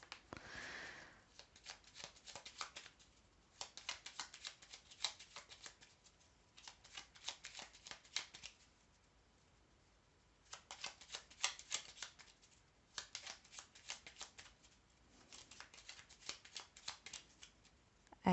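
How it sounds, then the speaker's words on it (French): Oracle cards being shuffled and laid out on a table, several distinct bursts of crisp riffling and sliding separated by quiet pauses, close and fairly soft. "je vais mettre des cartes pour que vous puissiez faire votre choix"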